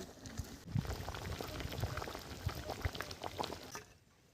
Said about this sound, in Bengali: ঝোল ফুটছে, পালং শাকগুলো ঝোলের মধ্যে দিয়ে দিলাম।